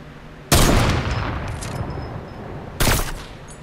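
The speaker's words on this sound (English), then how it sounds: "Somebody's shooting at you. Somebody's literally shooting at you." Gunfire in the video game Fortnite: two loud, close bursts of rapid shooting, the first sustained for about two seconds and fading into a tail, the second starting abruptly a moment later.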